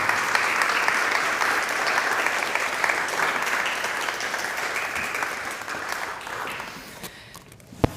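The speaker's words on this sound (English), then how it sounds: "you can give them an applause while they walk up" Sustained audience applause fills a hall, dense and steady at first, then gradually thinning and fading over several seconds until a few last claps remain.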